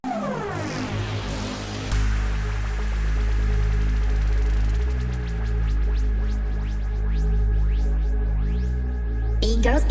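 Electronic dance music break in STMPD style, with a deep sustained bass and layered synth chords, plus a cluster of rising and falling FX sweeps building through the second half, played loud with no talking.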